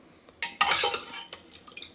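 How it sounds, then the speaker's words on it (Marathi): Cooked capsicum, cauliflower, carrot and onion are mashed with a copper tumbler in a pot, giving a quick run of metallic clinks, scrapes and soft squelchy thuds close by. "तांब्याने मॅश करून घेतलं."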